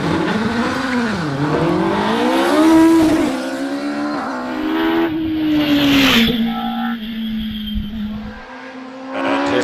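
A Pilbeam MP88 single-seater hillclimb car with a Duratec engine runs at Prescott, its engine note loud and near, rising and falling through gear changes as it passes and then fades into the distance.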